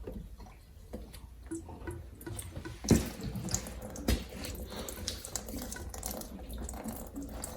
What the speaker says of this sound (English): I should get some water dripping from it as well